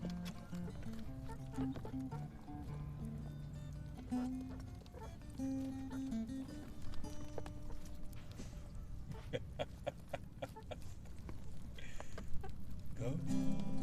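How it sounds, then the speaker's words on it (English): Chickens peck at and feed on cottage cheese, clucking intermittently under loud music with singing that dominates throughout. "Chickens eating cottage cheese."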